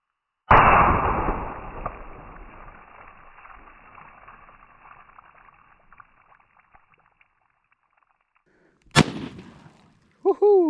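Lever action rifle fired outdoors during ballistics testing: a loud, sharp gunshot with a long rolling echo, then a second crack about nine seconds later, followed by a brief whooping voice.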